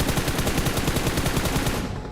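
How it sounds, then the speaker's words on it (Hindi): Rapid, loud automatic gunfire from a battle royale video game, a dense continuous burst of shots that fades at the very end. "बहुत जोर की गोली चल रही है"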